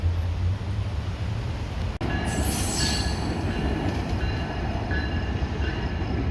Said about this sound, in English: I'm gonna say this is the Metro Electric line.